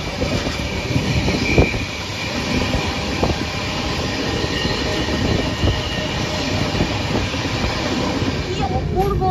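A passenger train runs on rails past tea gardens, giving a steady, loud rumble with faint wheel clatter throughout, heard from on board.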